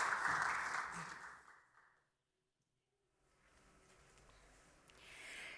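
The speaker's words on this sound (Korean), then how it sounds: "우리 여러분 큰 박수로 축하해 주시기 바랍니다" A church congregation applauds during a Sunday service with a broad wash of clapping that fades to silence, then rises again more softly and swells toward the end.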